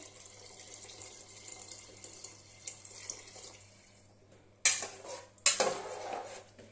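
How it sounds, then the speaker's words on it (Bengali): Water pours into a pressure cooker filled with rice in a home kitchen for egg polao, starting as a low steady trickle and then two loud splashing bursts near the end, with no talking. "প্রেসারে দিয়ে দিয়েছি সমস্ত চালটা। এবার পরিমাণ মতো জল দেবো।"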